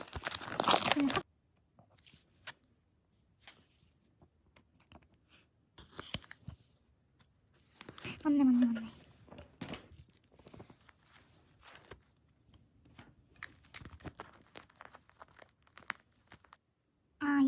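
Mail packages are torn open and plastic wrapping crinkles in short, close bursts separated by quiet gaps, with occasional rustling and handling noises.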